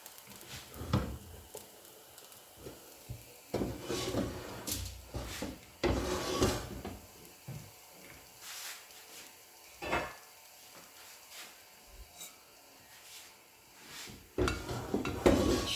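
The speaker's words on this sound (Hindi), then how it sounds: "मैं एक और अलग बर्तन ले लेती हूँ और एक अलग बर्तन में मैं शीरा बनाती हूँ" Metal cooking pots and utensils clatter and knock against each other in a home kitchen while semolina halwa is being made, with scattered close bumps and scrapes over a quiet background.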